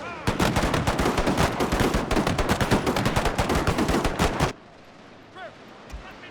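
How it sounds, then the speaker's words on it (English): Gatling guns and rifles fire in a Total War game battle set in the Anglo-Zulu War, a dense, loud rattle of rapid overlapping shots for about four seconds before it cuts off abruptly to quiet background. "Back on the Gatling guns, if you please."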